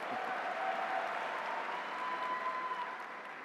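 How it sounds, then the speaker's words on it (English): Audience applause at a college commencement ceremony: steady, faint clapping from a crowd that holds evenly for a few seconds and tapers slightly at the end. "That first applause came from my wife."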